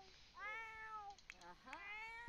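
Cats meowing in a life-simulation video game where several household members age across generations: a long drawn-out meow followed by a second, overlapping meow, close and clear, with a brief thump at the end.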